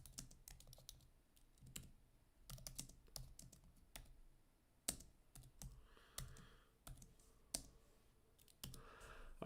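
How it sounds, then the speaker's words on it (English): Keyboard typing during a live inflation data report: quick irregular bursts of clicks and key taps, close and fairly quiet, with short pauses between runs and no talking. "I'm going to type it up over here. I'll just type it in."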